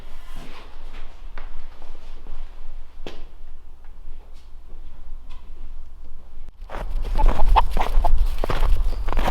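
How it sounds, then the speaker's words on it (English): A chicken clucks nearby in short, scattered calls against quiet surroundings, with a few light knocks. Louder rustling and handling noise then take over toward the end. "The chicken's not even scared of you, Tanner."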